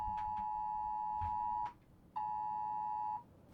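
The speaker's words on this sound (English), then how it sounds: "Just had the emergency go off on my phone, but it was just a government test." A phone's government emergency alert test sounds as a loud, steady electronic tone with harmonics, holding for about 1.7 seconds, breaking off briefly, then returning for another second or so, close and clear with no talk.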